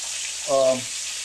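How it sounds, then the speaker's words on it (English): Squirrel pieces fry in a pan with a constant, bright, hissing sizzle; a short voiced sound briefly rises over it midway. "while that last batch is cooking there, or frying"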